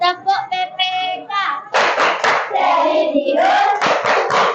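Schoolchildren in a classroom clap in rhythm through a group clapping chant, with a run of sharp, fast hand claps followed by children chanting loudly together, close and busy.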